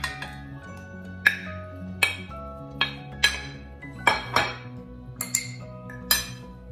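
Sharp, ringing clinks of a utensil striking a bowl at irregular intervals as one egg is beaten for coating shrimp, bright and close over a quiet hum.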